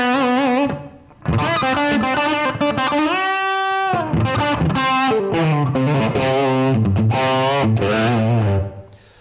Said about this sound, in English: Now we should have some reverb.